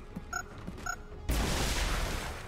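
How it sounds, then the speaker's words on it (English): Plasma grenade detonating in the turn-based game XCOM: Chimera Squad, a couple of soft beeping tones followed by a sudden loud, broadband explosion that rumbles and hisses as it decays. "But we can drop the plasma grenade on them."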